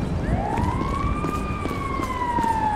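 Ambulance siren in GTA V, a single rising then slowly falling wail over steady road noise, fairly close and prominent.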